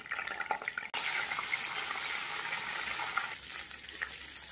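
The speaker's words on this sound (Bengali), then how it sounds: "এবারে ফুলকপিটাকে ভেজে নেব। তার জন্য এই তেলের মধ্যে দিয়ে দেবো ফুলকপি" Cauliflower florets, soaked in salt water, drop into hot oil and burst into a loud, steady sizzle that stays dense and close after an initial splash, with no talking.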